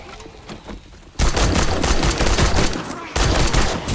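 Sustained bursts of automatic gunfire in the zombie survival game 7 Days to Die, loud and dense, starting a second in, pausing briefly near the three-second mark, then resuming.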